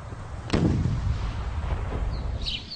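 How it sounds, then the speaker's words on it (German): A single sharp homemade cannon boom goes off nearby outdoors, followed by a rumbling echo that slowly fades into outdoor ambience. "Die selbstgebaute Kanone böllert auch alljährlich beim Waltarisfest."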